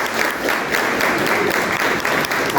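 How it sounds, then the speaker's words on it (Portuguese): An audience at a church service with Pastora Mônica claps steadily for her arrival, a dense and even wash of applause that holds for the whole stretch with no voices over it. "uma salva de palmas"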